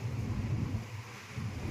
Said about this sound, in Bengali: এত হাওয়ার তেজ সে যেন মনে হচ্ছে মানুষ উড়িয়ে নিয়ে চলে যাবে